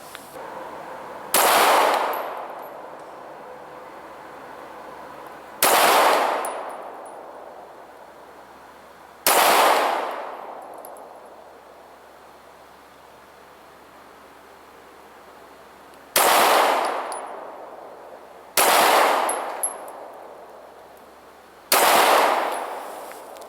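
A Walther PPS 9mm pistol fires six loud, sharp shots one at a time, with a gap of several seconds between each report and a short ringing decay after each.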